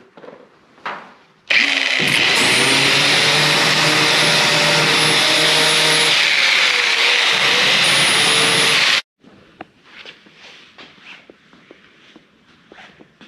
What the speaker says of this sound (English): I'll be using a flat disc to smooth it out a little better.